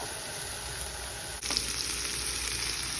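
Stuffed meatballs frying in a hot skillet, a steady broadband sizzle running throughout, briefly dipping then resuming louder as more meat hits the pan.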